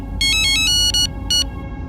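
Phone ringtone sounding after a call is placed, several bright electronic trilling bursts in quick succession over a low background hum.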